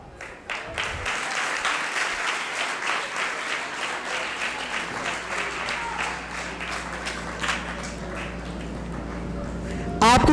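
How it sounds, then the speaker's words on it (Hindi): A congregation applauds at a thanksgiving Mass for a nun in a parish in Godhra Camp. Sustained, fairly even clapping from many hands continues for about ten seconds, with voices murmuring underneath and a brief louder burst at the very end. "आपकी तालियां नहीं रुकनी चाहिए।"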